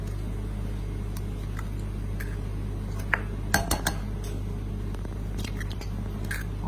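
Eggs go into pumpkin pie filling made with whipping cream and two kinds of sugar, giving a few brief clinks and taps of bowl and utensils around a steady low kitchen hum.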